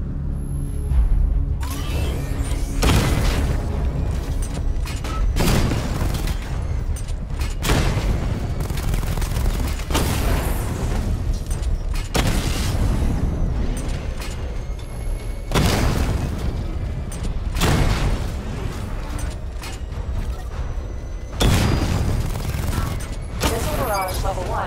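Repeated heavy missile barrage explosions in Batman Arkham Knight, a series of loud booming blasts every few seconds with rumbling tails and gunfire between them, a voice speaking over parts.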